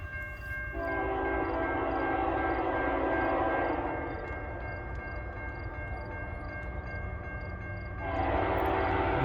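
CN 3124 runs southbound past Ladysmith as a freight train: its horn sounds in sustained blasts, pauses, then blows again, over a steady rumble of the passing train heard from trackside.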